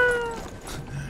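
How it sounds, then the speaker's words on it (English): A cat meows once, short and fairly close, in the Strange Brigade video game, heard alone against faint background ambience. "Cat!"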